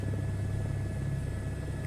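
A helicopter flown in a VR flight simulator game gives a steady, continuous low rotor and engine drone, with no voices.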